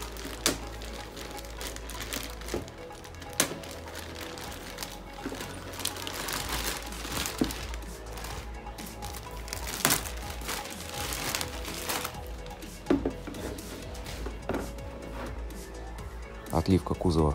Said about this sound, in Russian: Достанем его из пакета.